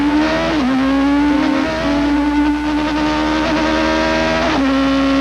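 1991 Toyota Atlantic open-wheel race cars at the Long Beach street circuit, engines screaming loudly and continuously up close, with pitch dropping and climbing through gear changes as they run onto a short chute.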